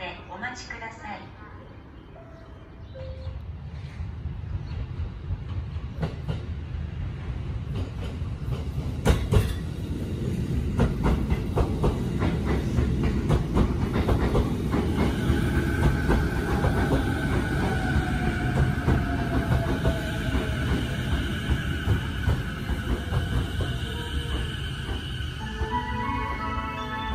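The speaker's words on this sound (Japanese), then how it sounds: "まもなく2番線に京葉線経由快速電車東京行きが到着します。" A JR Keiyo Line rapid train bound for Tokyo pulls into a platform at Honda Station on the Sotobo Line in the morning, its rumble and clatter building and holding loud, with a faint brake squeal and platform announcements over the top.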